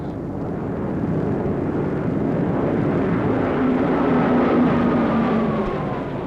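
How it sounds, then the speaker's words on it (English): Japanese WWII warplanes flying overhead, a continuous loud droning engine roar that swells and slowly shifts in pitch over several seconds. "These are Japanese planes."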